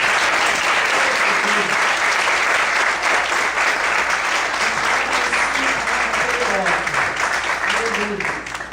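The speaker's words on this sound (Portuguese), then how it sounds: "vamos aplaudir a palavra do Senhor" A church congregation applauds at length during a service, a steady, dense wash of clapping that holds for the whole stretch and fades slightly at the end, with a few voices murmuring underneath.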